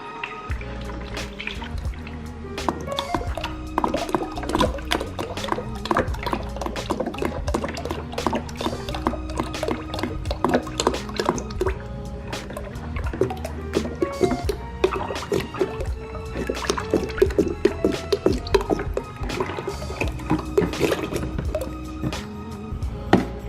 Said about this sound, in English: start pouring some in there, and hopefully it'll take, you know, over a gallon, almost 2 gallons to finally fill up this whole system